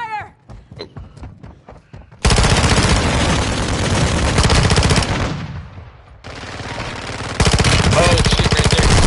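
Rapid sustained small-caliber gunfire in a first-person shooter video game, loud and close, in long automatic bursts with a brief lull midway, after a few isolated shots at the start.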